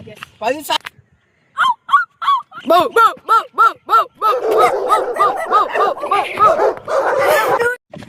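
A person imitates a dog, giving a run of short, sharp barks that turn into excited yapping as other voices laugh and chatter.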